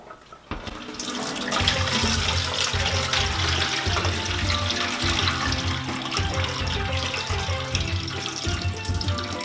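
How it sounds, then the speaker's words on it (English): Water drains from a pot of cooked shrimp, or prawns, being made into Jamaican hot pepper shrimp, a steady splashing pour that runs close and continuous for several seconds with no talking. "So the next thing that I'm gonna do is drain the water."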